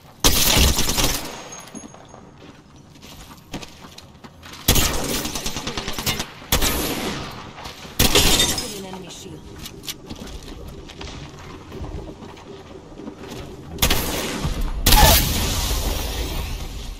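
Video game gunfire comes in loud bursts of rapid automatic shots, separated by quieter stretches of lighter, scattered shots. Talk and other game sounds run underneath.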